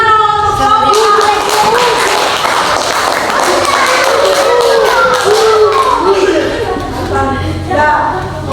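A primary school class in Indonesia claps for a group, with loud, quick, irregular hand claps running throughout, mixed with children's voices and a few thumps.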